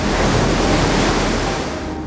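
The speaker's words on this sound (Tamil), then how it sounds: "அலைகள் ஆவேசமாக இருக்கின்றன" Loud, raging sea waves crash and roar in a continuous wash of surf with wind, no voices present.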